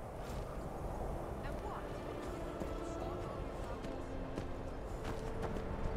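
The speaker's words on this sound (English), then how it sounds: "But my horse is just wandering off." A horse's hooves clip-clop in a loose, uneven rhythm in the Skyrim video game. The steps sound moderately close and sit under a steady background wash with some faint talk.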